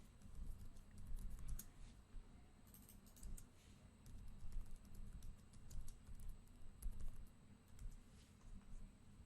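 Faint keystrokes on a computer keyboard as a password is typed, irregular light clicks in short bursts over a low background hum.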